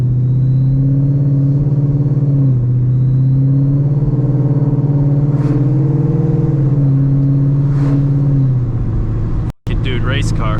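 A boosted Ford Mustang with an AWE Track exhaust drones at a steady low rumble with a few rises in pitch, loud and close, ending in a sharp pop and crackle.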